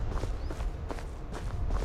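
Footsteps in an Unreal Engine 4 game level, a steady series of soft, evenly paced steps over low background rumble, with no voices.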